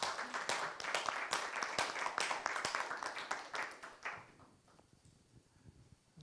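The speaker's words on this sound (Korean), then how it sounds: "우리 박수 한번 칩시다." A church congregation bursts into applause during a Sunday morning service, a dense, lively clapping that runs for about four seconds before thinning out and fading to quiet.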